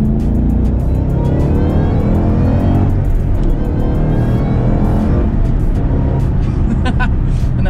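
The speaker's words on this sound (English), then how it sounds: "And that supercharger whine is epic." A supercharged Shelby GT500 Mustang accelerates hard in second gear, its loud engine roar rising steadily alongside a high supercharger whine, heard close and continuous throughout.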